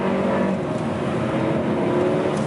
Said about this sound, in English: and then we take a little bit acceleration test at full throttle,